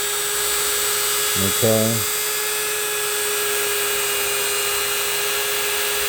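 A Dremel fitted with a Cutzel taper burr carves an olive wood pipe, giving a continuous high, steady whine, close and loud, with one short spoken word partway through.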